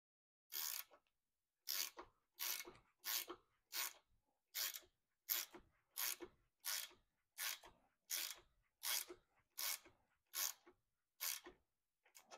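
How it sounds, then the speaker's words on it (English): Fourteen evenly spaced, sharp rasping strokes from a 9/16 wrench tightening a dash 4 braided hose fitting, close and fairly quiet with short silent gaps between each stroke. "we'll put this on and then just tighten it"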